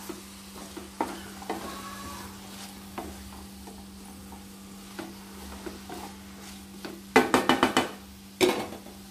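Tempering sizzles in a pan before ridge gourd pieces are added: a faint, steady frying hiss over a low hum, with scattered light ticks and then a few sharp bursts of spoon scraping against the pan near the end.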